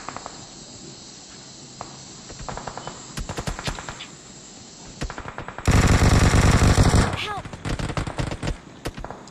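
Gunfire in the mobile shooter BGMI: bursts of rapid automatic fire and single shots, growing louder and denser toward the end, under excited talk among players.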